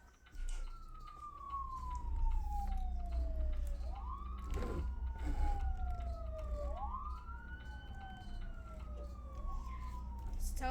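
A wailing police siren in the video game BeamNG.drive rises and falls repeatedly over a low engine drone, loud and steady, with a few muffled voices beneath.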